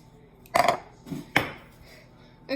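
Drinking glasses are handled and set down in a kitchen, with a couple of sharp clinks and knocks a moment apart, near and fairly quiet, with faint movement between them.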